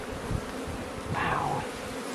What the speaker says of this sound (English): if any bees in here were field bees, they're going to fly out and they're going to go back to their own